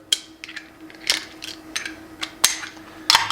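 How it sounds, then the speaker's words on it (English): A ratchet wrench working 16mm bolts with a 24 socket on a KarooRak roof rack gives a string of sharp, close metallic clicks in short irregular bursts, with no voices. "So first let's tighten these up. So basically put your ratchet on"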